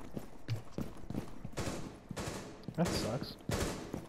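Rapid bursts of video-game gunfire crackle in quick volleys under a running voice, with heavier sustained salvos toward the end as a player talks over the shooting.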